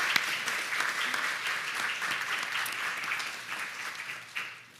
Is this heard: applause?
yes